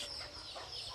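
Newly hatched Muscovy ducklings on a farm give faint, brief peeping calls for a single moment, with no talking.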